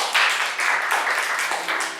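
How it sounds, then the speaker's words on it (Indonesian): A congregation at a GKPB MDC Prabumulih church service gives a short burst of applause, a brief wash of many hands clapping that rises and falls slightly. "Kasih tepuk tangan dulu buat kita semua"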